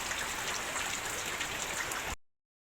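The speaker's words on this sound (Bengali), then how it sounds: "প্রচুর বৃষ্টি পড়ছে।" Heavy rain pours steadily on a residential morning, a dense, continuous hiss of falling water with no voices, cutting off abruptly near the end.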